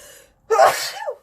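A single loud, close sneeze bursts out after a short quiet gap, with a faint breathy trail afterward.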